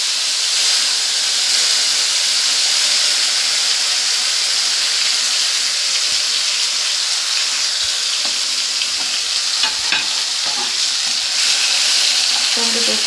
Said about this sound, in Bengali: টমেটো পেস্টটাকে দিয়ে ভালো করে একটু ভেজে নিতে হবে।